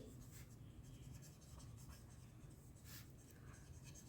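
Pen writing on paper during a maths lesson, very faint scratching strokes under steady low background hiss.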